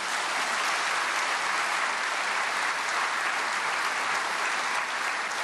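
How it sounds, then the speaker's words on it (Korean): Sustained applause from an audience at a prayer meeting for peaceful reunification, welcoming a speaker who is the chairman of a vocational school. The applause holds steady and full for several seconds, with no voices above it. "박수로 환영하겠습니다."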